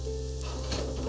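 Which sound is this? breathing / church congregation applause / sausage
sausage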